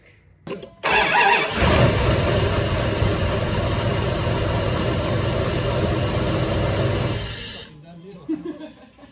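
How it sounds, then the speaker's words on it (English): A 2000 Dodge Dakota V8 with new spark plugs cranks and fires up almost instantly, then settles into a loud steady idle for several seconds before cutting off, with voices around it. "I barely turned the key and that thing fired right up"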